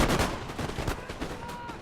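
Lines of muskets fire in a Napoleon: Total War battle, producing a loud burst of overlapping shots at the start that fades into sparser, quieter cracks and rattling reports.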